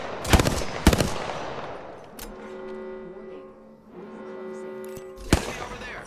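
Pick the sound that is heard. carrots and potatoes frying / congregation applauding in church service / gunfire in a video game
gunfire in a video game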